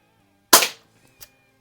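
A single sharp crack of an Umarex DX17 BB pistol firing, close and loud, followed by a faint impact snap a moment later, otherwise quiet.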